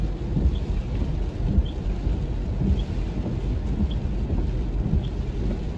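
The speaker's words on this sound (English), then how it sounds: "Here comes the heavy rain now." Heavy hurricane rain drums steadily over a moving car, a dense continuous roar with low rumbling underneath and faint repeated high ticks, heard alone with no talking.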